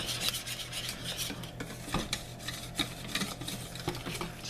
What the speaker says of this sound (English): we want to stir it until all the lumps are out